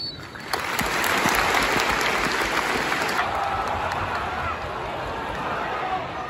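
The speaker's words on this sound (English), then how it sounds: "we invite you to celebrate his life and achievements with a minute's applause" A football stadium crowd at a Plymouth Argyle home match joins in a minute's applause, a broad, even wash of distant clapping and murmur swelling quickly and holding steady, with people talking close by.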